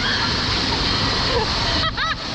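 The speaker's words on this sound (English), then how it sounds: "we're going down the lazy river, except it's not so lazy" Water churns and splashes steadily along a fast-moving water park lazy river at an indoor lodge resort, loud and close, with a voice speaking briefly near the end.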